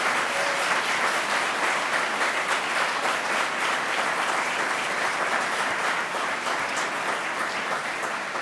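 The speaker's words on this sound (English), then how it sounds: "Let's give a round of applause for our chief and the brave men and women of the Rochester Police Department" A sustained, dense round of applause from a large crowd at a 2017 city address, honoring the Rochester Police Department, steady and loud throughout with no break.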